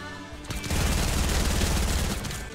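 Sustained machine-gun fire erupts in a video game, a loud dense burst of rapid shots after a brief quieter lead-in, continuing without pause to the end.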